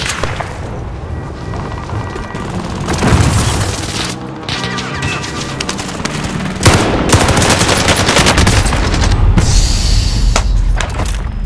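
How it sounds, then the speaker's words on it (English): Allied precision airstrike in a World War II shooter game: a barrage of heavy explosions and booms mixed with rapid gunfire, loud and sustained, building into dense continuous blasts with no talking. "Allied precision airstrike incoming"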